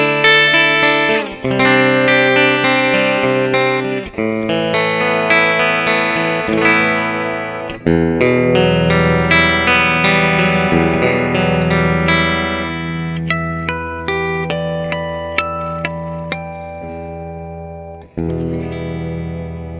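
A clean electric guitar through a humbucker pickup plays chords and single notes, ringing and sustained, with no distortion and no voices.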